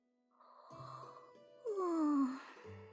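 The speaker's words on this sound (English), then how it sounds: "Stop yawning." A game character in Olympia Soiree lets out a drawn-out yawn, a voiced vocal sweep that rises and then slides down in pitch, heard alone and close over soft game background sounds.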